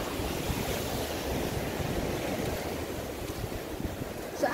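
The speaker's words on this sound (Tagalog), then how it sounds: "Tinalakas ng alon, nakakatakot." Strong sea waves surge and wash continuously near Tamarit Castle on a very windy day, a loud, dense roar with wind buffeting the microphone and no voices.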